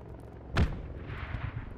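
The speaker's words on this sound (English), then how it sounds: "Squad 8 is mortaring some shit." A single mortar round thumps once, loud and close, followed by a low rumbling tail in a squad-based military shooter game, with no voices.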